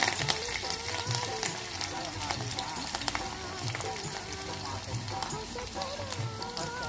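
Garlic and curry leaves sizzle steadily in hot oil for garlic gojju, a dense close crackle with scattered pops, and some stirring or movement sounds in the pan.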